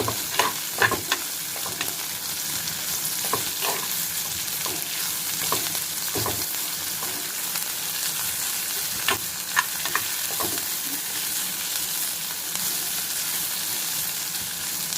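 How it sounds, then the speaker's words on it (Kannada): Roasted okra tipped into a pan of frying, mostly browned onions and stirred for a bajji: steady close sizzle throughout, with repeated scrapes and clatters of a spoon against the pan, no voices. "ಇದಕ್ಕೂ ನಾನು ಬೆಂಡೆಕಾಯಿ ಸುಟ್ಟಿಟ್ಕೊಂಡಿದ್ವಲ್ಲ ಅದನ್ನು ಹಾಕ್ತಾ ಇದ್ದೀನಿ"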